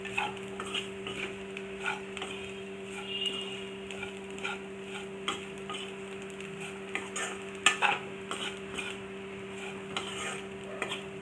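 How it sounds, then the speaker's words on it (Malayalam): Tomato and masala for mutton gravy stirred in a pan over a low gas flame: soft, repeated spoon scrapes and light taps over a faint sizzle, with a steady mechanical hum throughout and no voices. "പച്ചമണം മാറുന്നിടം വരെ ഇളക്കിക്കൊണ്ടിരിക്കണം."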